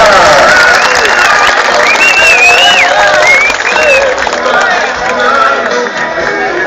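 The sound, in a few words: crowd applause at rodeo festival opening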